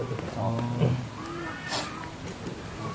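A cat meows a few times, with short rising and falling cries, among people chatting nearby.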